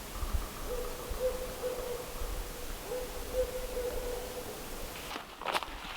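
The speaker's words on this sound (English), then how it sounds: "The barred owls are breeding here." A barred owl hoots repeatedly from wet woodland where a breeding pair is present, a steady series of moderately distant calls, followed by a brief rustle at the end.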